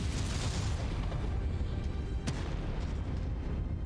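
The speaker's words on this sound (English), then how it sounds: "These big artillery thumpers are quite a thing, right?" Heavy artillery shells explode in Mechwarrior 5: Mercenaries, a loud, continuous rumbling barrage of deep booms with one sharp crack midway and no voices.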